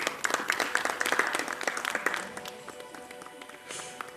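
A congregation claps in a church service, dense scattered handclaps that are lively at first and then thin out, with faint voices underneath.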